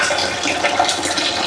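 Water from semi-boiled rice pouring off in a steady, close rushing splash with no pauses, loud and continuous throughout.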